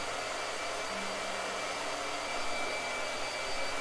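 A blow dryer runs indoors with a loud, steady, unbroken whirring hiss throughout.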